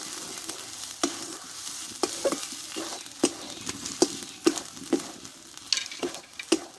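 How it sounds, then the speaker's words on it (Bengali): A cauliflower dish stirred in a pan with melted ghee: a soft sizzle underneath and a run of sharp, irregular spatula knocks and scrapes against the pan, close by. "ঘিটা দিয়ে আমি কিছুক্ষণ আবার নাড়াচাড়া করে নেব"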